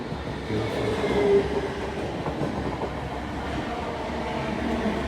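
A passenger train runs along the line toward the next station, giving a steady, close, moderately loud rumble and rattle that holds without a break, with no talking.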